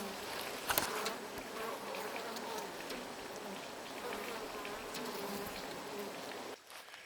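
Honeybees drone steadily inside a full, crowded homestead beehive, a dense close buzz with a faint sharp tick near the start, then a sudden drop into near silence at the very end.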